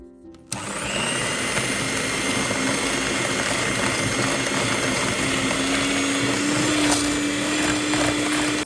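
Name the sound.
electric mixer beating butter and caster sugar for red velvet cake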